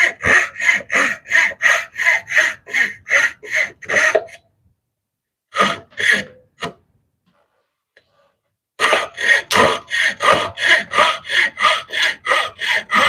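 Rhythmic hand carving of wood with chisels, a close, loud run of rasping strokes at a steady pace, a short pause with a few isolated scrapes and silence, then another long run of even strokes.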